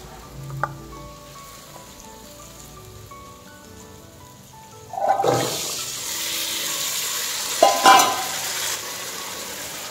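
Potatoes drop into hot oil in a pan and sizzle loudly, with sharp scraping stirs after a quieter kitchen lead-in.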